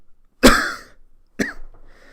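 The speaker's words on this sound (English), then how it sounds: "You see him kind of coughing into his hand." A man coughs into his hand twice, each a sharp, close burst with a short tail, separated by about a second of quiet.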